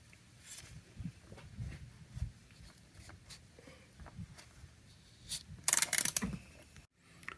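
A 3/8 ratchet with a filter wrench loosens the oil filter on a Subaru Forester, a faint sequence of mechanical clicks and scrapes that ends in a louder burst of rattling ticks.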